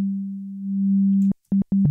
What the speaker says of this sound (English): We only got one operator and it's using a sine wave at the moment.